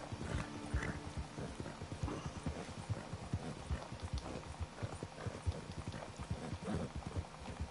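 Horse hooves clip-clop steadily in a video game, a rhythmic run of close, moderately loud hoofbeats with a brief whinny-like tone, over faint background noise.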